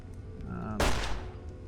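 A 10mm submachine gun fires in the Fallout video game: one short, sharp burst of gunfire that rings out briefly over a low, steady background hum.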